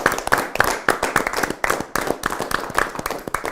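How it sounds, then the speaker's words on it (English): A small group clapping for themselves on a celebratory channel-milestone broadcast, a scattered, uneven burst of handclaps going on steadily for several seconds, fairly close and with no talk over it. "we have to clap for ourselves"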